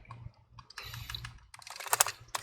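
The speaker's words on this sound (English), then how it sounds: "I'm typing in the password, so the keyboard is working" Fingers type on a MacBook Pro A1708 keyboard in quick bursts of close, crisp key clicks with short pauses between them.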